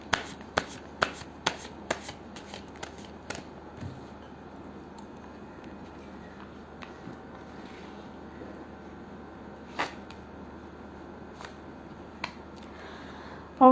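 Tarot cards are shuffled by hand in quick riffling bursts: a run of sharp snaps at the start, then softer sliding and scattered riffles, all fairly quiet and with no talking.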